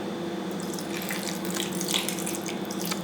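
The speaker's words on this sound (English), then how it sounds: "so we'll add some water to it." Water runs from a kitchen tap, poured into a grinder jar holding biryani paste ingredients, a steady close splash lasting the whole stretch with no talk over it.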